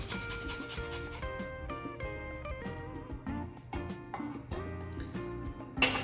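Orange being zested for a turkey glaze, close, steady rasping rubs repeated in short strokes over several seconds, with no talk.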